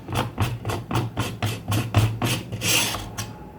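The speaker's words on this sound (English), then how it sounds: "the way you can replace the barrels in this blaster there is by simply screwing it out" A metal barrel being unscrewed from a Worker Harrier spring-powered Nerf blaster: close rhythmic scraping of the threads in about nine even strokes, ending in a brighter grating rasp as it comes free, with no talk.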